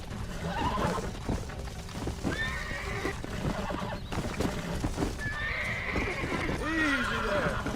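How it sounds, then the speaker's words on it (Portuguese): A horse in the Red Dead Redemption video game neighs and whinnies repeatedly while hooves clip-clop underneath, with someone talking over the game sounds. "Me derrubou, meu cavalo que me derrubou."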